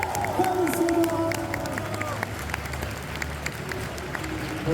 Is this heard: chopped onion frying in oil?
no